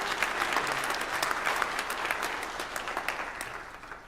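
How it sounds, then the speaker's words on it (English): Sustained round of applause from an audience at a state transportation commission meeting, dense steady clapping filling the room for several seconds without pause. "So if we can just have a round of applause for those that are here"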